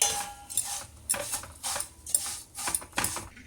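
Vermicelli roasting on low heat in a pan for kunafa, stirred with a metal spoon in repeated scraping bursts against the pan roughly every half second, close and clear with no talk.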